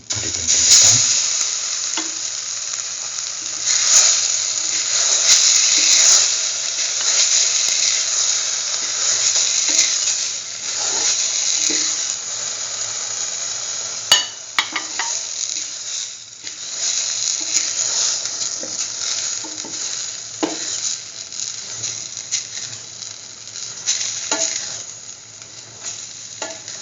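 Batter-dipped chayote and potato sandwich toast with chickpea flour batter sizzles and fries steadily in a pan, a continuous close hiss with occasional crackles and faint stirring clicks throughout.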